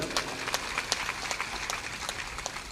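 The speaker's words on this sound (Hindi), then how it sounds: "ताली बजा दो।" Audience members at a Hindu religious discourse clap loosely and unevenly, with distinct separate claps rising over a soft, steady room hum.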